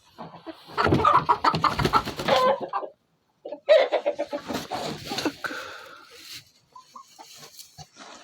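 Chickens clucking and squawking inside a coop during a winter egg collection, loud busy bursts near the microphone with a brief pause, then continued softer clucks trailing off.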